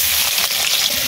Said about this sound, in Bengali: তেল গরম হয়ে গেছে, তেলের মধ্যে দিয়ে দিচ্ছি পেঁয়াজ কুচি